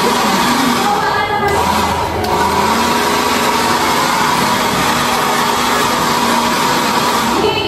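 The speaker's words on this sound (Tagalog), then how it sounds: "Kaya mag-blower ako." Hair blow dryer running continuously, a loud, steady whirring blast of air that stays constant from start to finish.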